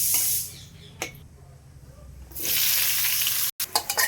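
Onion hits hot oil with whole garam masala in a pan for chicken curry, giving a loud, close hissing sizzle that fades, then surges again with stirring before a brief cut.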